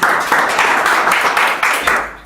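Steady applause from an audience at a panel discussion, a dense wash of clapping filling the whole stretch at a fairly loud level, with small swells and dips before it tapers near the end.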